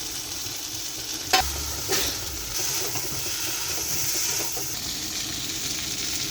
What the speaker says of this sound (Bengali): মাংস কষানো হচ্ছে